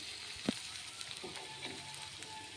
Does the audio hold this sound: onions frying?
yes